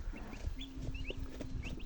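Turkey chicks and other poultry on a farm chirp and cheep in quick scattered high calls, with a low steady hum and soft rustling around them, close and fairly quiet.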